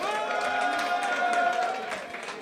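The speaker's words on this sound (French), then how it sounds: "Un tonnerre d'applaudissements pour eux," A crowd at the Mister Rubber France 2024 election event applauds steadily, clapping and cheering voices blending into a sustained, moderately distant wash.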